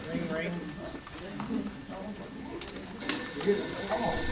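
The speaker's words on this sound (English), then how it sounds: "Oh, my phone." A telephone rings at a play staged in Mount Vernon. A bright, repeating bell sits under ongoing talk and grows clearer toward the end.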